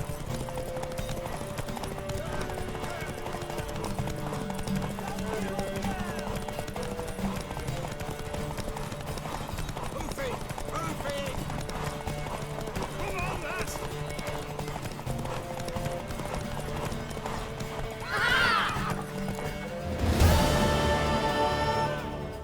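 A horse gallops with rhythmic clip-clop hoofbeats in The Witcher 3 video game, steady and close, with occasional whinnies and speech over it, and a louder burst near the end.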